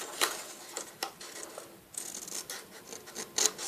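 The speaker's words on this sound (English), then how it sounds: "I'm just cutting up to the score line." Scissors snip and rasp through paper up to a score line while shaping a mini paper bag: close, dry scraping cuts in uneven bursts, with a few sharper clicks and no talking.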